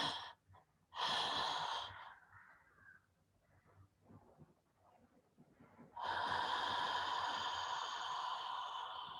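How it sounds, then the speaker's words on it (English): A deep, slow inhale and exhale during a guided breathing exercise, heard close and soft, with a loud rush of breath at the start and again near the end. "And one last inhale."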